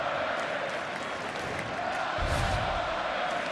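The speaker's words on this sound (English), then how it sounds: "The crowd chanting Melvin Gordon." A stadium crowd at a 2014 Wisconsin vs Minnesota Big Ten college football game chants Melvin Gordon's name, a dense, steady roar filling the whole stretch and swelling slightly near the end.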